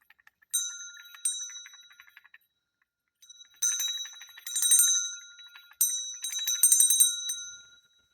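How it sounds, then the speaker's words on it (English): A small bell rings out clearly several times, bright and ringing, with short pauses between groups of strikes, each tone lingering briefly. "There's going to be a little loud bell sound"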